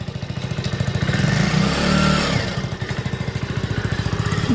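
A motorcycle engine chugs at idle with a rapid, even pulse, revs up briefly in the middle, then settles back to a steady putter.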